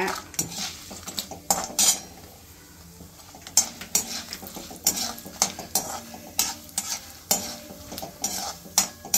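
Cashews go into a hot tempering with dried red chillies for ragi rava upma, with repeated sharp metal spoon scrapes and clinks against the pan over a faint, steady sizzle.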